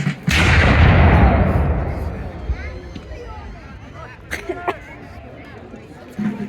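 A heavy volley of musket fire from reenactors firing by groups at a Battle of Guilford Courthouse reenactment booms near the start and rolls away, followed by crowd chatter and voices.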